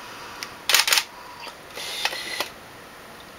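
Autofocus on a Nikon D600 lens makes short whirring buzzes in quick bursts, close to the camera body, faint then louder, a few separate spurts over a few seconds.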